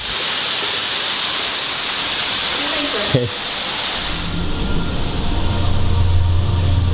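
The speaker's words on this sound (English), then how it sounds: "They have their own private waterfall outside" A private waterfall at the Ma'in hot springs gives a steady, loud, broadband roar with a brief thump midway. The rush grows heavier and deeper toward the end.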